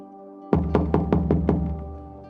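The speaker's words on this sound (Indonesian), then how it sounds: "terdengar suara dari luar mengetuk pintu." Six quick knocks on a door from outside fall in an even rhythm, moderately loud over a steady hum of a television in the room.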